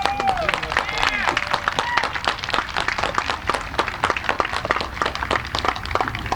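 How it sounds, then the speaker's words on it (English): Dense, steady applause from an outdoor audience at a Fishburne Military School graduation for the faculty, with many overlapping hand claps close by and a few voices rising through it. "I would request that all of you give them a round of applause."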